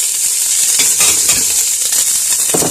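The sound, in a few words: onions and celery cooking in a pan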